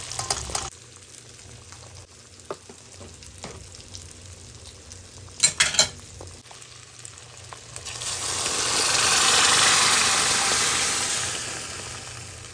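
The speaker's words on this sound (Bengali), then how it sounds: "এবার আমি এর ভিতর সিদ্ধ করে রাখা ডালগুলো দিয়ে দেবো" Boiled lentils tipped into fried spice masala and stirred, with scattered clinks and scrapes early on, a few sharp knocks midway, then a swelling sizzle and bubbling hiss that grows loud and steady toward the end, no voices.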